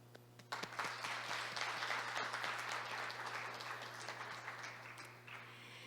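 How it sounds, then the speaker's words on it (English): Participants applaud at the close of an international judicial policy research conference. The clapping swells quickly after a short pause, holds steadily over a low constant hum, and then thins out near the end. "Let us give a big round of applause to all of the participants."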